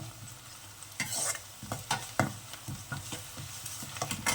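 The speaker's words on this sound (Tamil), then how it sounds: "இப்போ வந்து ஆனியன் வந்து நல்லா ஃப்ரை ஆகணும்." Onions frying in hot oil in a pan for a Chettinad crab gravy, a soft sizzle broken by repeated scraping stirs at an uneven rhythm, close and fairly quiet, with no talking.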